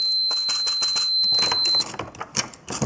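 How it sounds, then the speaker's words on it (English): A primer alarm on a Lee Pro 1000 reloading press sounds as a loud, steady high-pitched electronic tone over rapid mechanical clatter, then cuts off, leaving irregular clicks and handling noise. "the primer alarm goes off"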